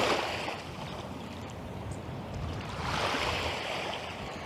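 Water and waves washing along a rocky shore on Scotland's west coast, a steady broadband rush that swells and eases, moderately loud and close, without voices.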